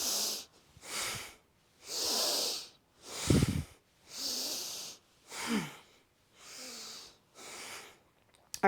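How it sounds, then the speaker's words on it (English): A person takes sharp, rapid breaths in and out through the nose during a hatha yoga class, about eight forceful hissing puffs in an even rhythm with short gaps between them, close and fairly quiet, with no talking. "Breathing sharply in and out through the nose."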